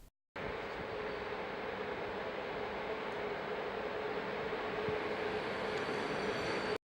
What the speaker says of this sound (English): while Randall gets ready to film a modern electric train.